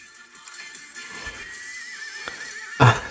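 Donkey from Shrek gives a drawn-out, wavering bray, a strained cry that rises and falls over a few seconds before ending in a sharp, louder burst.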